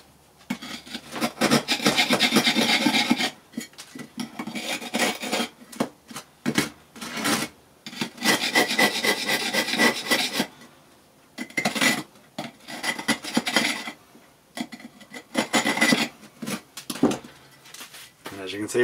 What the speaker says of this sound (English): cutting four grooves in this one just to make the chisel work easier